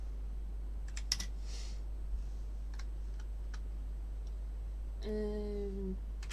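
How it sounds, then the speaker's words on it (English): Sparse, crisp clicks of keys on a loud computer keyboard, a few scattered taps, then a brief electronic tone near the end, over a steady hum. "you'll just only hear my annoyingly loud keyboard"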